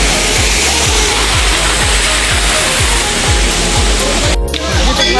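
The Jhor Jharna waterfall near Tokha, Kathmandu, running with somewhat reduced flow, gives a steady, loud rushing roar of falling water that fills the whole stretch without a break.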